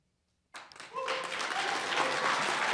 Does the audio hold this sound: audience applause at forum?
yes